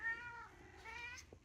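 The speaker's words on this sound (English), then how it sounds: "Meow." A cat meows twice in quick succession, close and clear, with rising and falling tonal cries separated by a short pause.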